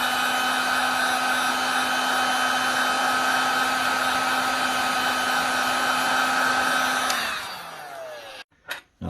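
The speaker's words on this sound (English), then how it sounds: "So I'm just going to use a heat gun. Warm this up a bit." A heat gun warms the back cover of a Samsung Galaxy A8 phone to loosen the camera, giving a loud, constant whirring blow with a steady hum before the motor winds down and cuts off near the end.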